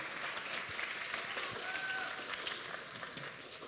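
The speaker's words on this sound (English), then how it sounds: "Let's give Dr. Schlingman another round of applause." An audience applauds after a keynote talk about eclipses, a dense, steady wash of many hands clapping that fills the whole stretch and fades slightly toward the end.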